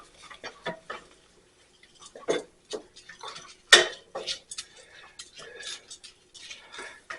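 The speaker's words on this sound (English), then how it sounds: "we're just basically going to toast the rice a little bit" Rice is stirred and toasted in olive oil with onions and garlic in a pan, heard as scattered light scrapes, clicks and taps of a utensil against the pan, with one sharper clink, all fairly close and quiet.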